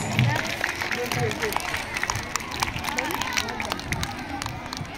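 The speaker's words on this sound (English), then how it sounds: "Give her a big round of applause." Audience at a school Republic Day celebration applauds a student speaker, a steady dense wash of clapping with crowd murmur and scattered voices throughout, moderately loud and continuous.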